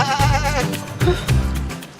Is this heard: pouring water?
no